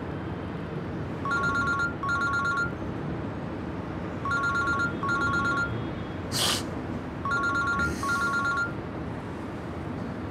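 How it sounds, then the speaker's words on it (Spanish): A telephone rings in three bursts of double electronic trills, each with a steady rhythm, in a room with a constant background hum and a brief whooshing noise between rings. "Contesta el teléfono ya."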